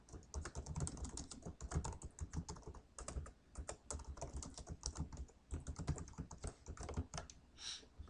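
Fast, steady typing on a computer keyboard, close and clear, with dense irregular key clicks throughout and no voice.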